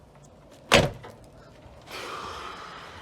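The door of a fire-burnt Honda Pilot opens with one sharp latch clack, then a softer drawn-out scraping creak as it swings, close and fairly quiet overall.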